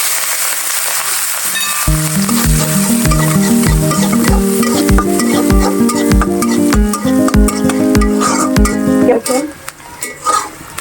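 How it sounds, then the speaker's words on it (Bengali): Onion and green chilli sizzle in the oil left from frying sea puti ilish fish, a continuous close crackle with stirring. For most of the stretch it plays beneath loud rhythmic background music, then stands nearly alone at the end. "পেঁয়াজটা অল্প কিছুক্ষণ কষিয়ে নিয়েছি মাছ ভাজা তেলের সাথে"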